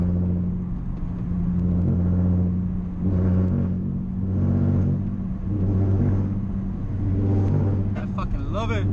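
A Nissan 350Z fitted with test pipes drones loudly from inside the car while driving, its exhaust rumbling steadily with repeated swells of revving, and voices are heard at times over it.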